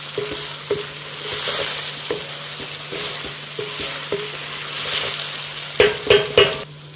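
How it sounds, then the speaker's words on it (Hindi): Okra and onion fry in oil with a steady close sizzle, broken by repeated spatula scrapes and taps against the pan and a few sharp clanks near the end, with no one speaking. "ये अच्छी तरह से हमारी फ्राई हो गई, प्याज भी लाइट ब्राउन सा हो गई है"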